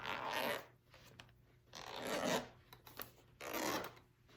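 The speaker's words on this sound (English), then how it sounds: "we are going to completely unzip it" A shoulder bag's zipper is pulled open in three long rasping strokes with short pauses between them, close and fairly soft, and nobody speaks.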